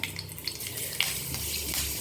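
Oil sizzles steadily in a pan as mustard seeds and fenugreek fry, with small pops and crackles, a continuous frying hiss close by and no talking.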